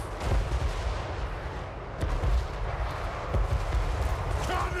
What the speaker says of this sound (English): Those cannons just constantly firing. It's a beautiful sound.